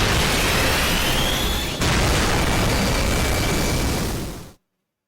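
In the Fate/Grand Order game, a black barrel detonates inside a bat-filled cave. The blast is a loud, continuous roaring explosion with a second surge partway through, sustained for several seconds before cutting off abruptly into silence.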